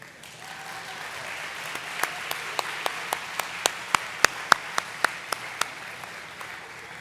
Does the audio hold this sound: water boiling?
no